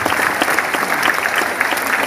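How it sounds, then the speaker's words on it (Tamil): An audience at an educational awareness event claps to encourage the chief guest, a dense, steady patter of many hands close by that lasts the whole moment without letting up. "எல்லாரும் ஒரு கைத்தட்டல் கொடுத்து என்கரேஜ் பண்ணணும்."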